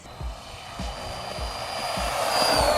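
A WLtoys 20409 mini RC monster truck on a downhill drag run, its electric motor whining steadily and rising in pitch, with rhythmic low bumps from the wheels over uneven ground and no voices.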